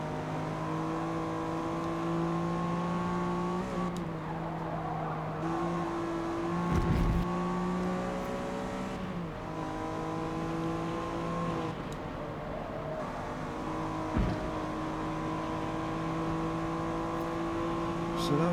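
Race car lapping a circuit in the game Forza Motorsport, its engine droning steadily with rising and falling pitch through gear shifts and a few sharp thumps, while a voice talks over it.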